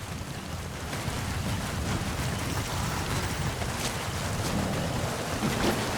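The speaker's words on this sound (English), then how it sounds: "Sound of rainfall should help to mask your footsteps." Steady rain falls in Metal Gear Solid V: The Phantom Pain as a constant, even wash of noise at moderate volume, with no voices.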